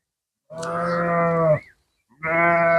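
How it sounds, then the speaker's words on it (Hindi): Sheep or goats from a large herd that includes young animals bleat nearby. Two long, loud, wavering bleats are separated by a short silence. "बहुत बड़ा एक रेवड़ है"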